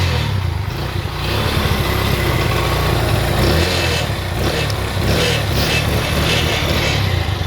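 A motorcycle engine, just repaired after a blown fuse, runs at a steady idle close by, a continuous low rumble with a slight uneven pulse and no talking over it.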